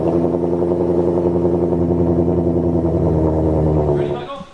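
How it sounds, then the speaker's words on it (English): A Ford Voodoo V8 from a GT350 with quad exhaust idles with a deep, even, throbbing rumble close by, holding steady for about four seconds before fading out, with some talk around it. "you gotta admit that Voodoo does sound good."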